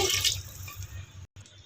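Water runs and splashes into a mixer jar in a steady close pour, briefly cutting off near the end before resuming.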